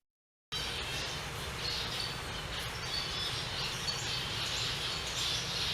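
Aviary room full of zebra finches and other birds: a dense, continuous wash of small chirps and tweets, fairly faint and diffuse, beginning after a brief silence and carrying on without speech.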